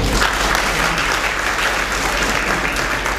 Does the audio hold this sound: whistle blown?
no